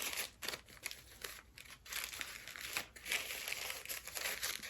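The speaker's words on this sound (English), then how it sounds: "So now I've got my 2 coffee filters, and then we're just going to fold that" Paper coffee filters being folded, a steady papery crinkling and crumpling with short rustling bursts, close and quiet, with no voices.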